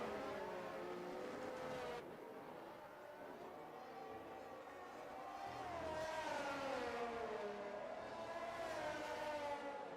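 Race car engines of a Ferrari and a McLaren in a racing video game whine and shift pitch through gears, with a continuous layered drone of several cars on track, moderately loud, no speech.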